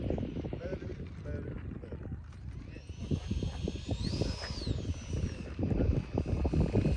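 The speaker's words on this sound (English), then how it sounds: "Aaron's got the little F-22 up." A small 64 mm ducted-fan RC model F-22 jet takes off, its thin high whine rising and swelling at a distance over outdoor wind and rumble.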